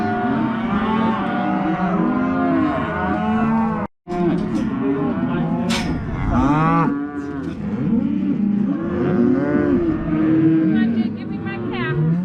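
A herd of cattle moos loudly and almost continuously, several overlapping drawn-out calls rising and falling close by, with one brief gap early on.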